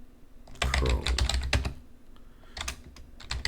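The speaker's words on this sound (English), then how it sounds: "you just type in which" Rapid keystrokes on a computer keyboard as a Linux command is entered, close and clear, in quick bursts with a short pause midway before a few more taps.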